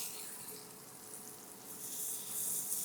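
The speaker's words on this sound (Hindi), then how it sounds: "अब एक तरफ टिक्का जो है फ्राई हो गया है, तो धीरे से हम पलट के इसको दूसरी तरफ भी फ्राई कर लेंगे।" Paneer tikka pieces fry in oil in a pan, giving a steady, soft sizzle with a hiss that swells slightly toward the end, with no voices.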